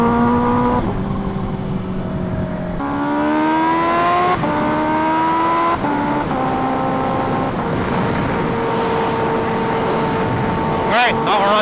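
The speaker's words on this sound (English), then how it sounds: "now we're riding the H2R at night" A Kawasaki Ninja H2R motorcycle rides along a road at night, its engine holding a steady droning tone that climbs through several gear-like steps, loud and close, with a brief sharper burst near the end.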